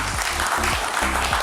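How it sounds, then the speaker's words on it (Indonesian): An audience at a government social-aid event applauds for the governor, a steady wash of clapping from a crowd, with a faint voice or sustained tone underneath. "Tepuk tangan untuk Gubernur."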